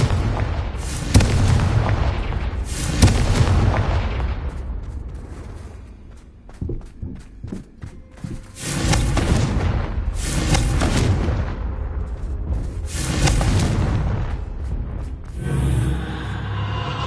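Repeated booming spell blasts, Confringo cast in Hogwarts Legacy, erupt in heavy bursts over a loud game soundscape, several large explosions spread across the stretch with rumbling tails.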